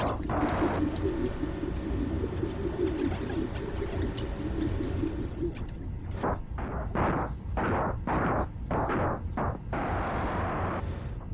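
Pigeons in Marvel's Spider-Man Miles Morales, close, repeated throaty coos in a rhythmic series over a steady city-like background drone, rising in pulses toward the end.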